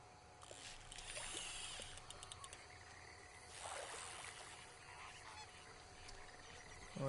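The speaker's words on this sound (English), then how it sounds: "Alright, I hear some ducks." Ducks in Red Dead Redemption 2 honk and quack faintly in a quiet outdoor game scene near water, scattered calls over a soft ambient background.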